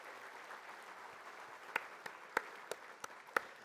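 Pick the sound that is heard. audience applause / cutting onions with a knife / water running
audience applause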